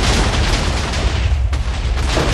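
Loud, dense blasts from TNT-style explosions in a Minecraft CubeCraft duels match, a constant rumbling roar of overlapping booms with no break across the whole stretch.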